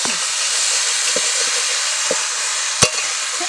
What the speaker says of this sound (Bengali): একটু ভালো করে ভেজে নেবো চালটাটাকে।